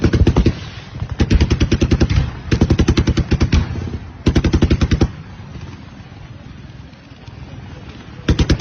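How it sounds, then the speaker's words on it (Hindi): Automatic gunfire along the Line of Control between India and Pakistan, fired in repeated rapid bursts with short pauses between them, loud and close, with no speech over it. "पिछले 3 से 4 दिनों में एलओसी पे लगातार फायरिंग हो रही है"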